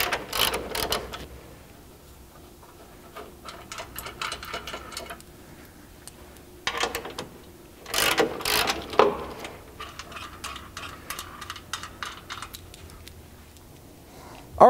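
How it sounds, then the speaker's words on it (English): A socket wrench with a 16mm socket removes crossmember bolts from a Jeep Wrangler, producing bursts of rapid ratcheting clicks separated by pauses and handling clatter, fairly close. "we're gonna get rid of this crossmember bolt, 1 on each side, 16mm socket"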